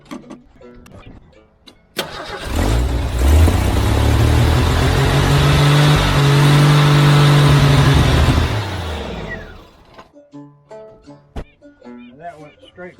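A 1983 Jeep CJ engine cranking and catching, then running loud and close for about six seconds before cutting out abruptly, with people talking afterward.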